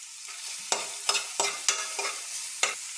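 Onion, garlic and ginger fry in a pan for a ragi vegetable soup: a constant sizzling hiss broken by six sharp scraping stirs of a spoon, close up and with no voices.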